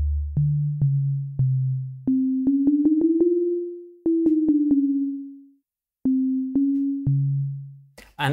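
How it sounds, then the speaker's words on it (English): Synthesizer bass notes in a techno track, played in a higher register as a series of clean, pure tones with sharp attacks, sliding gradually up and back down in pitch, loud and alone with short gaps between phrases. "So we can now change the bass note."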